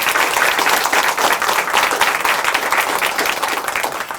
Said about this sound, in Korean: 다시 한번 큰 박수 보내드립니다.